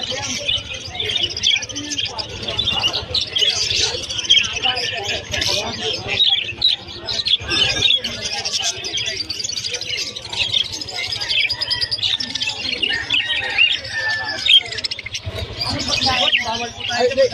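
Lutino birds at a crowded pet market chirp and squawk continuously in a dense, busy chorus, with people talking throughout and the steady hum of the market underneath.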